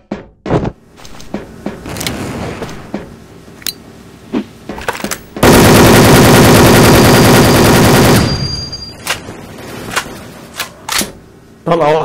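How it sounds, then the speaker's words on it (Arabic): Video game gunfire erupts as a sustained, loud burst of rapid automatic shots lasting a few seconds, preceded and followed by scattered single clicks and sharp pops amid game sounds. "طلقة واحدة على طول على السريع ما بيهزرش"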